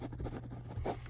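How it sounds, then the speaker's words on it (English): A rollerball pen scratches across textured soft-cover notebook paper, a faint continuous scratchy writing sound with small strokes and a slightly louder stroke near the end, close and quiet. "You could probably hear me writing."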